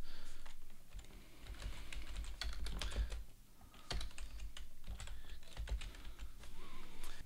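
Rapid typing on a computer keyboard while a file name is entered, a steady run of close, crisp key clicks with brief pauses, no voices.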